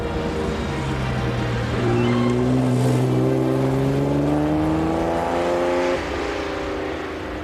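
An Aston Martin's engine revs, its exhaust note climbing in pitch through a long sustained pull, then easing back, loud and close with no talk.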